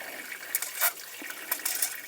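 Water and coolant pour and splash out from underneath an old car abandoned for years in a scrap yard, a faint, uneven trickling with a few brief gushes.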